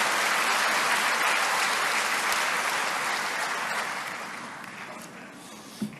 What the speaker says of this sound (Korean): 우리 박수로 감사하는 마음으로 환영하는 말씀 듣겠습니다